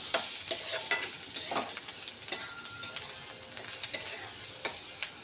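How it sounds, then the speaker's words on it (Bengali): Chopped, grated garlic fries with onions in hot oil, a constant close sizzle punctuated by sharp metallic spoon clicks and stirring taps against the pan, with no speech. "তো পেঁয়াজটা ভাজা ভাজা হয়ে গেছে, এইবার রসুনটা দিয়ে দেবো।"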